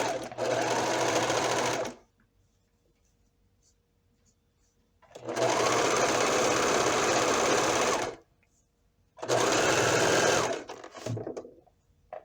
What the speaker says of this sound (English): Now I am using the serger to secure the stitches.